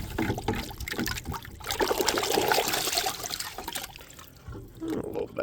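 Water runs steadily over the first media tray of a Fluval 407 canister filter during rinsing, a close, continuous splashing gush with no talking.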